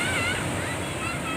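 Gentle sea waves at Pangandaran's east beach heard from a boat, a dense continuous wash of surf and water noise with wind, fairly loud and close.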